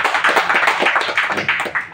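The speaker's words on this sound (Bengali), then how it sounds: "জোরে একটা হাততালি চাই" A seminar audience applauds together, many hands clapping in a dense, steady patter that fills the whole two seconds at close range with no pause.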